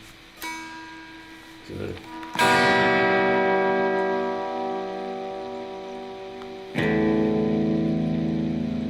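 Electric guitar through a booster and distortion pedal with tremolo, sustained ringing chords struck several times and left to decay, the later strike heavier and more saturated, played alone without talk.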